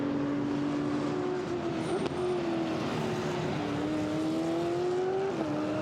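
GT4 race cars, including a BMW, circuit racing at Misano, with engines droning loudly and continuously at close range, pitch rising and dipping through gear changes.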